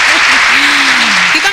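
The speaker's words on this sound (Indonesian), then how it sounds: "kita kasih tepuk tangan dulu nih" Applause from a studio audience during an Indonesian talk programme, short and steady, with a voice speaking over the clapping.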